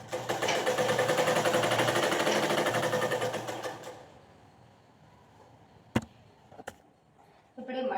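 A sewing machine stitches a folded hem on a baby frock in a fast, loud, continuous whir for about four seconds, then stops, leaving a couple of sharp clicks and a quiet room.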